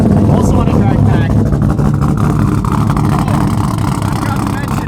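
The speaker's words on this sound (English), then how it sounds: "This thing sounds mean, has a thumping cam, also on a drag pack." A 5th gen Camaro with a stock LS3, thumping cam, drag pack and center exit exhaust gives off a loud, deep, choppy rumble close by, with a voice talking over it.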